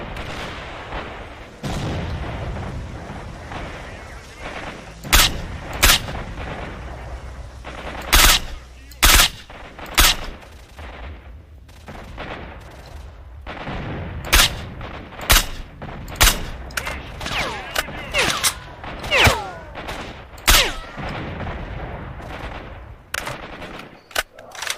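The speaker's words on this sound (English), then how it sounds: "somebody's still firing RPGs out there" Sharp, loud gunshots and booming rocket blasts ring out at irregular intervals across a tense firefight in STALKER: Shadow of Chernobyl, some close and punchy, others more distant.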